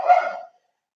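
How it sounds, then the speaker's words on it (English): A single short dog bark close by, one quick burst that cuts off cleanly into silence. "Sorry if you can hear my dog."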